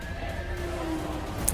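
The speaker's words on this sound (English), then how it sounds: "Riding the horse." A horse neighs in a drawn-out whinny within a movie trailer for John Wick: Chapter 3 - Parabellum, set against a dense, steady background of score and sound effects.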